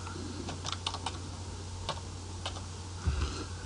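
Keys clatter on a computer keyboard in quick, uneven bursts while data is entered into a Visual Basic .NET database, close and fairly quiet, with no voice over it.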